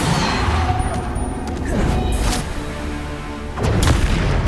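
Bombarda spell explosions in the video game Hogwarts Legacy, dense booming blasts and crashes over layered combat effects, with a heavy burst near the start and another loud impact toward the end.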